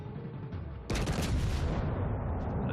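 Warship main guns fire at destroyers in World of Warships Legends, a sudden loud blast breaking over a low engine hum and then rolling into a sustained booming roar that fills the rest of the moment.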